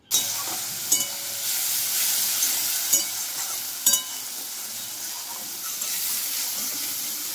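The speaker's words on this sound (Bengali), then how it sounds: "এবার আমি দিয়ে দিলাম কুচনো পেঁয়াজ।" Chopped onion sizzles in hot oil with panch phoron in a wok, a steady close frying hiss with a few sharp crackles and pops, stirred now and then while Bengali prawn curry is being cooked.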